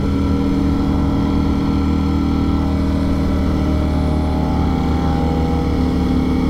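A Ducati Streetfighter V4S motorcycle engine runs loud and steady, a continuous close drone without any clear rev peaks, with no talk.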